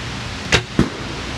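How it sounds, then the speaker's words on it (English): Two sharp, quick whooshes sound close together, arrows loosed from a Black Swan recurve bow toward a balloon on turf, each a brief snap over a steady outdoor background hiss. "So this bow is probably sending these arrows probably 175 feet per second with my pull."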